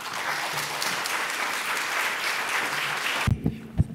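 Sustained applause from a conference audience in a corporate-America allyship event, dense and steady, ending abruptly before a few low thumps.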